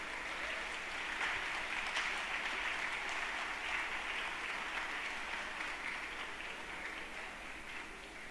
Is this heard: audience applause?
yes